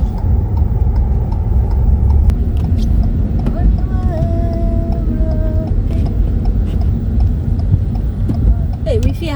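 A car drives on a snowy road, its engine and tyre rumble loud and continuous from inside the cabin, with a voice speaking over it.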